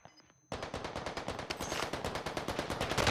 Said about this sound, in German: Der hat kurz auf mich geschossen